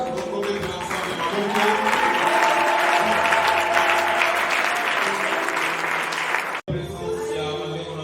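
A church congregation applauds steadily and loudly throughout, a dense crowd of clapping hands with some voices mixed in, the clapping cutting off abruptly near the end before a softer continuation.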